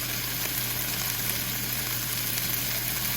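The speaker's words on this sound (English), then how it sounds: "I'm just gonna go ahead and let these peppers kind of saute up" Red peppers and onions sauté in a pan with a steady, even sizzle that holds at one level throughout, close by and with no voices.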